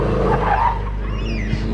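A 2008 Subaru hatchback in a hillclimb race sends a steady engine roar from some distance, holding a sustained tone that fades slightly as it passes.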